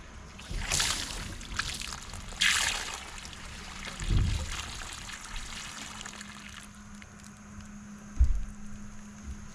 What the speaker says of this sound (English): You could have told me water was coming out.